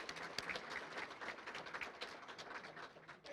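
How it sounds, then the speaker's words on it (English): An audience at a district scholarships and awards evening applauds its sponsors, a steady, dense patter of many hands clapping for a few seconds. "let's also give them a round of applause"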